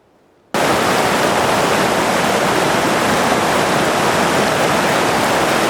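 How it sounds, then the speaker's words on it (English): Sallie Keys Creek, flowing out of the Sallie Keys Lakes, rushes in a loud, steady broadband roar that starts abruptly after a brief quiet moment and then holds constant with no talk. "This is Sallie Keys Creek."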